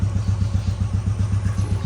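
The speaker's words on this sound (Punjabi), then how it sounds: "ਮੋਟਰਸਾਈਕਲ ਆਪਾਂ ਕਰ ਲਿਆ ਸਟਾਰਟ ਗਰਮ ਕਰਦੇ ਆ" A just-started motorcycle engine idles nearby while warming up, with a steady, rapid low putter, loud and continuous with no voices.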